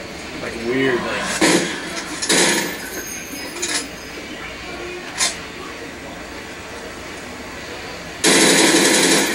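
Gunfire in the Call of Duty video game comes in sharp, scattered bursts with a loud sustained volley near the end, against a busy game background with faint talk.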